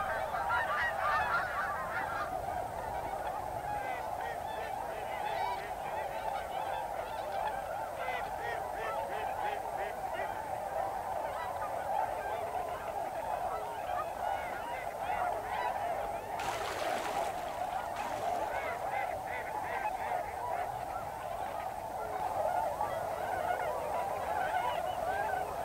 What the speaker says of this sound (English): Swans, geese, ducks, coots, all following the river as they move southward.